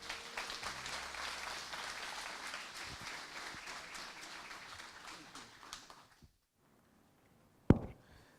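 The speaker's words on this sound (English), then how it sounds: "A round of applause, please, and a warm welcome" An audience at a software conference session applauds warmly for about six seconds, the clapping fading to silence before a single close thump.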